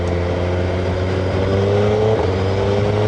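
Suzuki Hayabusa motorcycle accelerating on the open road, a steady loud engine drone with a rising tone heard from the rider's position, mixed with heavy wind noise and no talk.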